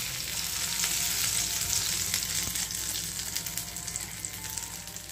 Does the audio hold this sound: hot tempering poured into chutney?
yes